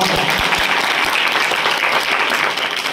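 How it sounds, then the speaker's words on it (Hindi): Audience applause at a school motivational talk, answering a call to clap for their parents; dense, steady clapping from a large crowd fills the whole stretch at even loudness. "एक बार अपने माता पिता के लिए जोरदार तालियां बजाइए दोनों हाथ"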